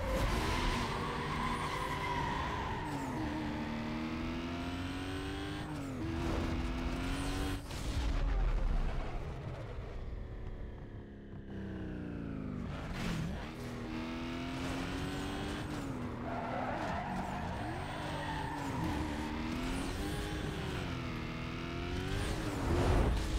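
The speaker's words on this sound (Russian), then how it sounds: "Забавно слышать звук двух одинаковых, по сути, движков." Two identical car engines race in the video game Need for Speed Most Wanted, with high revving engine whines that climb and shift as gears change, tire squeal, and a brief lull before the engines build again.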